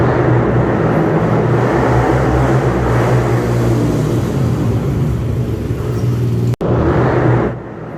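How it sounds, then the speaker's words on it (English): Dirt bikes and ATVs race along city streets in Poughkeepsie, a loud continuous engine roar and rumble held for several seconds, broken by one brief cut and then trailing off at the end. "dirt bikes and ATVs racing up and down the streets of the city"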